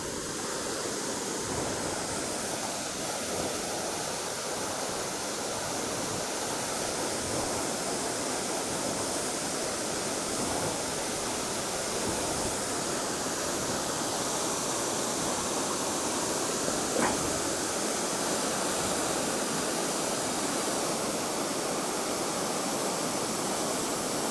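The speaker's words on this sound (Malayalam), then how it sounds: "ഇവിടെയൊക്കെ വെള്ളം ഇങ്ങനെ ചെറുതായിട്ട് ഇങ്ങനെ തെറിക്കുന്നുണ്ട് കേട്ടോ" Punnayar waterfall in Idukki roars as a continuous broadband rush of falling, splashing water. It holds steady and loud throughout, with no voices.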